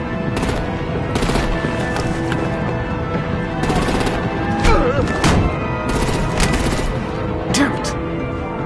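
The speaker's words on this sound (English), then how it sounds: "Bring out the artillery and disable their vehicles!" Artillery and gunfire in the Batman: The Enemy Within video game come as loud bursts of automatic fire and booming impacts in repeated clusters, with voices and whistling tones mixed in.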